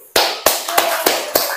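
Children clap in a classroom: six sharp, close handclaps at a steady, even pace, loud and alone with no talking.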